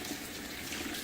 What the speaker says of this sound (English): Let me go ahead and rinse off my brush here really quick.